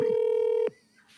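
A phone call rings out as a single steady electronic tone, loud and close, lasting just over half a second before cutting off into quiet.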